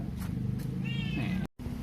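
A cat meows several times in close succession, a rising, drawn-out call that stands out clearly over a steady low background rumble, then cuts off briefly near the end.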